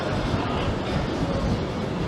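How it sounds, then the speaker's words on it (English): A tram or train rolls along a seaside promenade by the North Pier, a steady dense rumble with rhythmic wheel clatter filling the whole stretch, fairly close and continuous. "that train's getting here"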